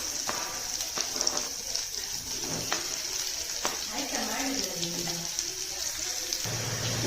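Long-sliced onions frying in hot ghee with green chillies in a pan for a paneer dry masala roll, a steady soft sizzle and hiss with occasional stirring knocks, fairly faint, with a voice speaking over it.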